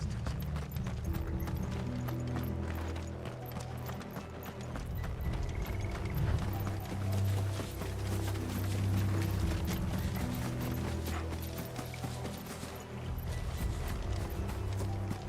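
Rapid clip-clop of galloping horses in a video game runs steadily throughout, with a low rumbling music bed underneath and no speech.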